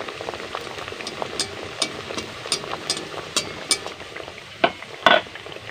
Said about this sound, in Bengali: আঁচটাকে কিন্তু মাঝারি রেখে খাজাগুলোকে আমি ভাজবো, খুব বেশি কিন্তু আঁচ রাখবো না।